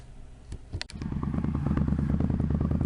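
A motorcycle engine starts with a few sputters and a clatter, then settles into a steady, close, rumbling idle.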